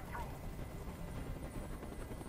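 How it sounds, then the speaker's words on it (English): A helicopter in the video game Detroit Become Human gives off a steady, dense rotor-and-engine roar that fills the scene at an even level without letting up. "Tell that helicopter to get out of here."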